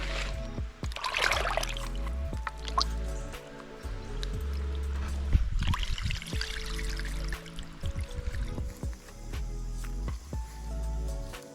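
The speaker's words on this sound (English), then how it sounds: "So now I just get some water and wash them off." Water poured over fish to wash them before frying, a wet sloshing and splashing with irregular pours and drips, close by, repeated over several seconds without talk.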